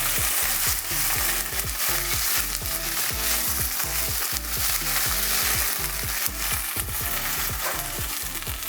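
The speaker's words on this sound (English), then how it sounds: "I'll add some tomato paste to the pot. Give it a little stir." Tomato paste stirred in a hot pot while making bulgur sizzles and fries steadily throughout, with repeated scraping strokes of a spoon running under the constant hiss and no talk.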